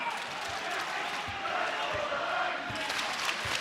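A college basketball crowd at a New Mexico at Utah State game roars loudly and steadily in an arena. Rhythmic ball bounces thump underneath, with a voice talking over the noise.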